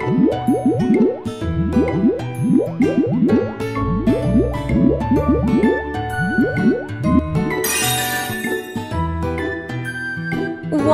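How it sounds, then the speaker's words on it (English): Cartoon soap-bubble effects from a Tayo the Little Bus children's game: rapid squishy, drippy bloops in quick clusters over light background music, ending with a sparkly shimmer, bright and close. "Make some bubbles on their faces."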